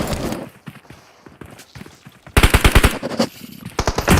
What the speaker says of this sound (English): shots still continue to ring out